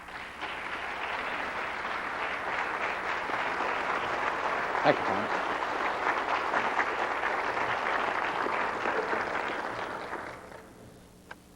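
Audience applause after a speaker is introduced, steady clapping filling the room for about ten seconds before tapering off, with a brief spoken thank-you partway through.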